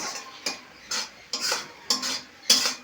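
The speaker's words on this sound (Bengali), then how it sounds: "এক চামচ করে গুঁড়ো দুধ ছড়িয়ে দেব দিয়ে এইভাবে নেড়ে নেব" A metal spoon stirs powdered milk into a thick carrot barfi mixture in a pan, giving five distinct scraping clinks against the pan at a steady, unhurried rhythm, close by and alone.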